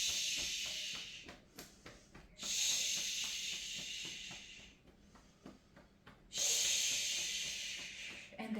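Long, forceful shh exhalations during qigong breathing, two sustained hissing breaths a few seconds each, close and clear, separated by quieter breathing and small shuffling sounds.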